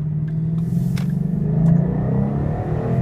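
Deep, steady exhaust rumble from a 2013 Mustang GT fitted with a 2012 GT500 exhaust, with a low throbbing tone, swelling slightly midway as if revved, loud and close with no talking.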